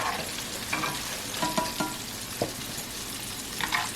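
Shrimp frying on high heat in hot grease, a dense continuous sizzle and crackle up close, with occasional stirring clatters breaking through.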